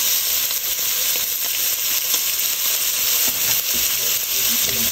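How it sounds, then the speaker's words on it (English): Bacon sizzles and fries steadily in a very hot pot as fat renders for chowder, a dense, continuous crackling hiss with occasional stirring clinks. "I'm gonna put some bacon in. The pot is really hot."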